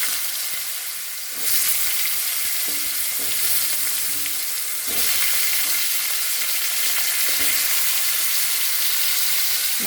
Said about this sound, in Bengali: সেই ফুলকপি ভাজার তেলের মধ্যে আমি আলুগুলো কেটে রেখেছি, আলুগুলো দিয়ে ভেজে উঠিয়ে নেব আলুগুলো।